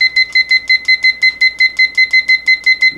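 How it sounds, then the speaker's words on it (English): A kitchen-style timer beeps in a fast, even pattern of short electronic double tones, loud and close, repeating steadily with nothing else heard. "so we have our timer set for 10 minutes"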